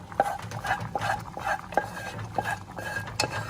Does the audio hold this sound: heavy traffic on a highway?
no